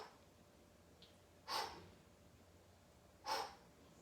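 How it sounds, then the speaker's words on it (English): Breathing during a beginner upper-body workout, two sharp, forceful exhales about two seconds apart, close and fairly quiet against a near-silent background. "now I purposely let you hear my breathing because it's important to exhale on the up and inhale as you lower"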